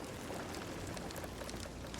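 Flowing creek water in the pirate game Sea of Thieves, a steady, fairly soft rushing and trickling wash that runs unbroken and fills the whole moment without any voices.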